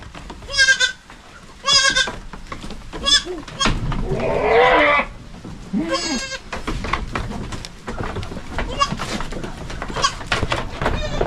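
Goats bleat repeatedly at close range, with several loud, wavering calls spread through the scene, some overlapping, while people talk nearby.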